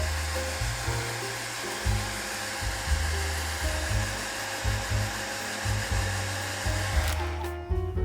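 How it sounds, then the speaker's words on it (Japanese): A hair dryer is switched on and off in repeated short bursts while drying watercolour paper, its steady whirring drone pulsing close by before cutting out at the end. "ドライヤーで乾かします"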